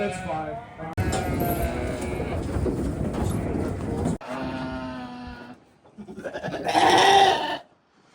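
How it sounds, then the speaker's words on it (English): A trailer packed with 32 sheep after a long haul, giving a dense chorus of overlapping bleats that is loud and continuous, breaks off briefly and then swells into a final burst of calls. "that's what 32 sheep look like in the trailer"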